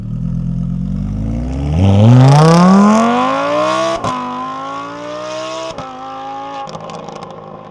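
A Lamborghini Huracan engine revs up loudly and steadily climbs in pitch as it passes close by, then holds a high whine with brief gear-shift dips.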